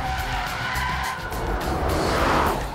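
A Mercedes-AMG GT 4-door Coupe in drift mode slides with loud, sustained tire squeal over a roaring engine, the screech wavering and swelling toward the end.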